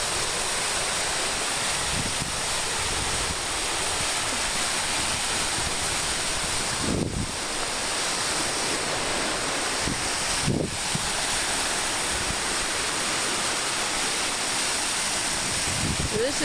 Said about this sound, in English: I don't know if you can hear me now over the waves or not.